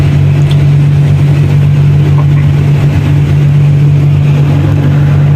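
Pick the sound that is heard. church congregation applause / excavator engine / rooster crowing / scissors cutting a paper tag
excavator engine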